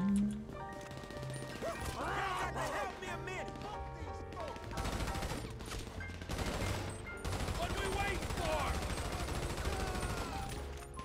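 Gunfire in a chaotic shooting video game crackles in dense bursts and volleys with crashes and impacts, loud and busy throughout, with voices talking over it.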